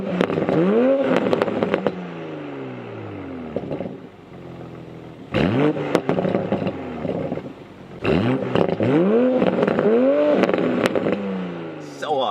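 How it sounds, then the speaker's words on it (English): A 2020 Toyota Supra's exhaust pops, burbles and crackles in loud, close bursts as the engine revs rise and fall, with sharp crackles clustered between throttle blips. "And then the best part, pops, burbles,"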